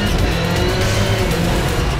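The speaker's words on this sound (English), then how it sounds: "All right, he's spun out." A rallycross race car spins out during a race, giving a loud continuous roar of engine and tires that stays steady for the whole short stretch.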